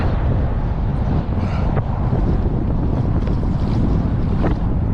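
Water splashes over the bow of a Vanhunks Mahi Mahi 11-foot board on a cold-front morning, a steady rushing wash mixed with heavy wind buffeting the microphone, with brief sharper splashes standing out.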